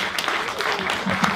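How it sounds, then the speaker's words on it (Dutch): Audience applause at a school music showcase, scattered clapping heard in a hall beneath someone speaking Dutch, with a few louder claps near the end. "Ja, even klappen, ja."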